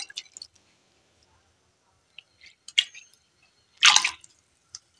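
Washed red lentils tipped into water in a cooking pot, a few soft wet plops and drips with a brief splashy pour near the end, close and otherwise quiet.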